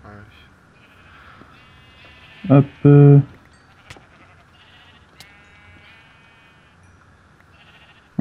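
Sheep bleating in the video game Fable, two loud close bleats in quick succession over quiet game ambience, with a short spoken word and faint clicks nearby.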